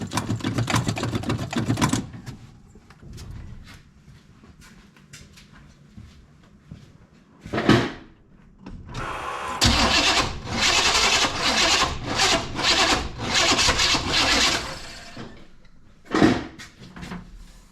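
A 1977 Chevrolet Malibu engine cranks hard in a few short bursts and then runs rough, with mechanical clatter and pauses between attempts, loud and close.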